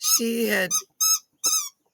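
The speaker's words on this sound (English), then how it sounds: "excuse my puppy dog's squeak in the background" A puppy gives several short, high-pitched squeaks in quick bursts, close and clear, with someone speaking briefly at the start.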